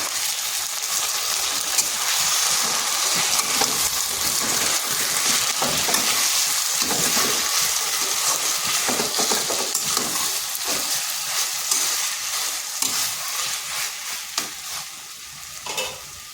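Drumstick leaf paste for a bhorta sizzles steadily in a pan while being stirred, with a loud, continuous hiss and spatula scraping and no talking.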